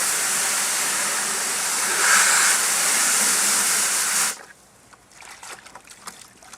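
A garden hose sprinkles water to rinse off a plate, a steady close hiss of spray for about four seconds that cuts off abruptly. Faint clatter follows.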